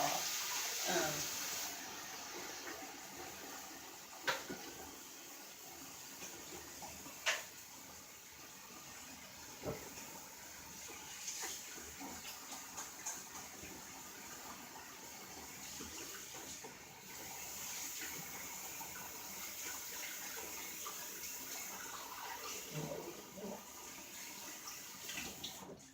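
Kitchen tap water running steadily into a sink while chicken is rinsed, a continuous hiss with occasional clanks and splashes, fairly faint, with some speech over it.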